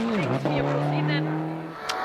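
A Subaru Impreza R4 rally car at speed on a stage of the Rallye International du Valais, its engine note dipping and then holding a loud, steady howl close by, with a commentator talking over it.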